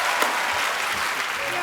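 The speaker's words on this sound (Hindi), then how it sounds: "तालियां बजाई रहे।" A television comedy show's studio audience claps after a musical performance, a brief, dense burst of applause at constant loudness with some crowd noise mixed in.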